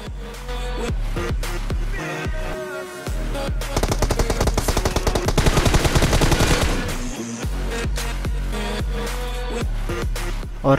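Gunfire in the PUBG video game on the Miramar map, loud repeated shots in bursts, with a dense rapid automatic volley in the middle and sharp single reports before and after.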